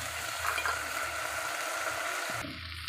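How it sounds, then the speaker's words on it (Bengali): Prawns fry in hot oil with chili and garlic, giving a steady, close sizzle with light stirring scrapes throughout and no talking. "এবার আমি চিংড়ি মাছগুলো দিয়ে দিচ্ছি।"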